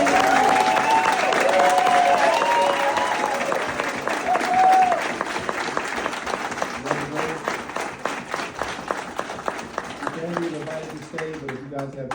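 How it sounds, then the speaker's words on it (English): Audience applause at a Mount Holly Township council meeting in New Jersey, dense and sustained for a round honoring officials, thinning toward the end as scattered claps and voices take over. "applause"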